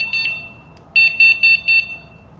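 A D2 and D121 door sensor host unit sounds its alarm: one short electronic beep near the start, then a quick run of four clear, evenly spaced high-pitched beeps, loud and close, with only faint room hiss between them.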